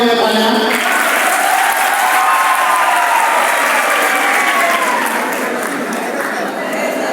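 A school crowd at an Independence Day prize distribution applauds three award recipients, loud, dense clapping held throughout, with faint chatter mixed in.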